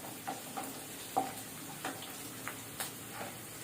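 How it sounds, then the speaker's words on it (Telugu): Mustard seeds, cumin, onions and curry leaves frying in oil on a stove over medium flame, a faint steady sizzle broken by scattered soft pops and crackles, with no voices. "ఆవాలు, జీలకర్ర వేసి, ఆనియన్స్ వేసి, కరివేపాకు వేసి వేయించుకోవాలి."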